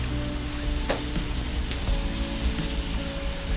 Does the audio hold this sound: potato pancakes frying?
yes